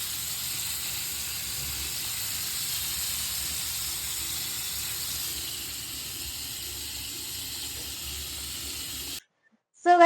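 Fish frying in oil in a home kitchen pan, a steady, even hiss and sizzle running for about nine seconds before cutting off abruptly, with a brief clatter right at the end.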